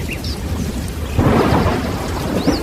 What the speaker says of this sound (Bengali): মুহূর্তের মধ্যেই ঝমঝম করে বৃষ্টি নেমে এলো।